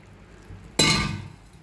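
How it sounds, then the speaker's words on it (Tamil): Water poured into a clay cooking pot on a stove while making ragi kali, a finger millet dish: a sudden loud splashing gush starts mid-clip and continues steadily, then tails off. "மண் சட்டியில் விட்டுடலாம்."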